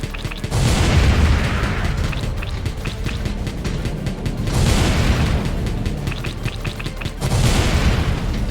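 Rapid machine gun fire in the video game Wall World, heard as loud, dense bursts of crackling shots and booming impacts. They come in three sustained waves with brief dips between them.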